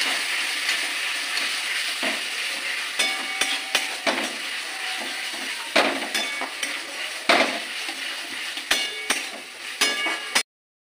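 Spices with Kashmiri chilli powder are sautéed in a pan for chilli baby corn: a steady sizzle with repeated sharp clinks and scrapes of a spatula against the pan, close and continuous before stopping abruptly.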